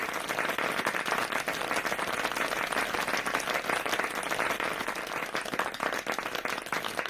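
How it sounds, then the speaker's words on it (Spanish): A seated audience claps for a speaker after a business talk on AI sales agents. Dense, continuous applause holds at a fairly loud, even level for the whole stretch. "Un gran aplauso para Néstor"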